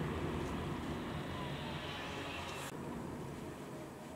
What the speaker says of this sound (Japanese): EV で粘ってからエンジンかけると結構エンジンの音がうるさいですね